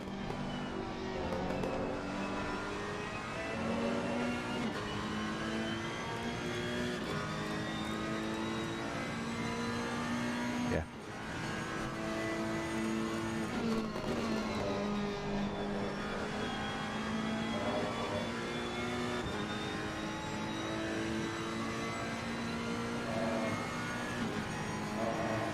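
A GT3 race car engine roars steadily through a simulated hot lap around Donington Park, with harmonic revs rising and falling through gear changes and one brief dip partway through, loud and continuous with no talking.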